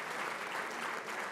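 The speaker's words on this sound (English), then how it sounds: "Round of applause for all of our speakers for the day." Audience at a World War II history conference applauding its speakers, a dense, steady burst of clapping from a full room that lasts about a second and a half, with no break.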